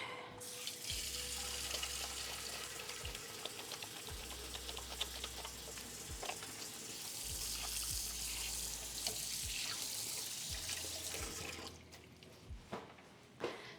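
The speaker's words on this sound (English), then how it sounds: "Time to wash my hands really good." Hands are washed under a running kitchen tap, the water gushing steadily into the sink with splashing and rubbing for over ten seconds before it cuts off near the end.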